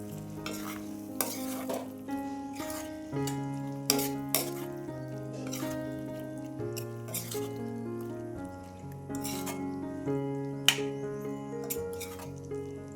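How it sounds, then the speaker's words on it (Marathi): Fried cluster beans (gavar) are stirred in a sizzling pan, with steady scraping and soft clinks of a spoon against the metal. Melodic background music plays throughout, and no one speaks. "आता आपण यामध्ये फ्राय केलेली गवार घालून घेऊया। आता हे आपण छान हलवून घेऊया।"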